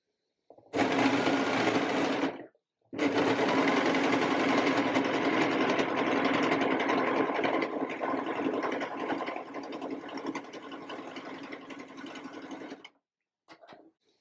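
A sewing machine stitches elastic onto fabric for a crop top, running in a loud steady whir that stops briefly after about two seconds, then runs on and slows toward the end.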